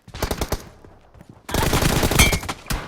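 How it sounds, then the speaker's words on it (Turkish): Rapid automatic gunfire from PUBG Mobile rattles out in two bursts, a quick run of shots, a brief pause, then a longer, denser fusillade that ends with one last shot, loud and close. "Oy ne mermi attı lan? Çok seri"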